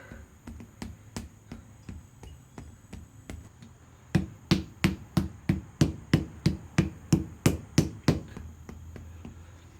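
Blacksmith hammering an 11-layer Damascus steel billet: a steady run of sharp, ringing metallic strikes, softer at first and then louder and evenly paced, close by with no talk.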